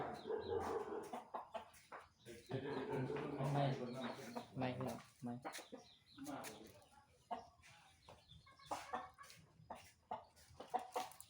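Chickens cluck and crow close by in bursts while someone talks over them.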